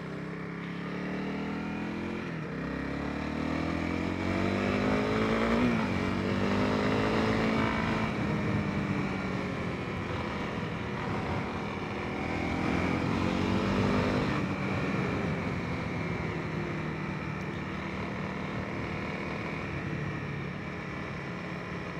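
A Honda CRF300L motorcycle rides on the road, its single-cylinder engine droning steadily with gentle rises and falls in revs as it cruises, moderately loud with wind rush and no talk.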